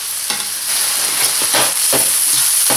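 Onion, garlic and ginger sautéing in a pan, a steady hiss of frying broken by repeated scraping stirs, close and fairly loud with no talking.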